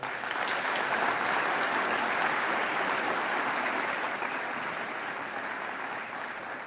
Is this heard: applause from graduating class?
yes